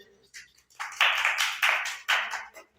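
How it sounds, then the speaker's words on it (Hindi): A class gives a student applause, sounding as several short bursts of clapping from a small group indoors. The bursts rise and fall in quick succession, each dense and close. "एक बार जोरदार तालियां बजाइए"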